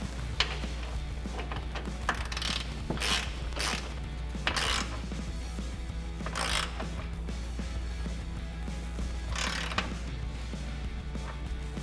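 18mm ratchet and socket clicking while tightening suspension bolts on a Jeep Wrangler JL during a Teraflex 2.5-inch lift install, with steady bursts of ratcheting over a constant low hum, close and fairly loud, no talking.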